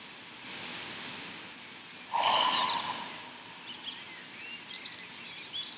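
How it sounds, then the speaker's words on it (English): One deep, audible breath during a standing yoga session rushes out close by after a quiet pause, followed by faint bird chirps in the background. "Take a deep breath here."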